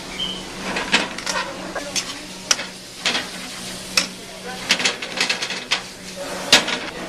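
Homemade spaghetti and rigatoni going into a pan of hot Bolognese sauce: stirring clatter with soft sizzle and scattered sharp clicks from a utensil, close and moderately loud, with no talk.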